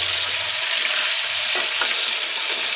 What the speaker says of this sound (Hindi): हम चिकन को अच्छी तरीके से फ्राई कर लेंगे